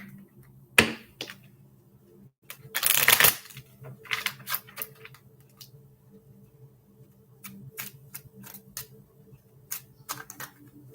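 Tarot cards riffle and slap in a few short bursts, with scattered light taps and flicks between them in a quiet room.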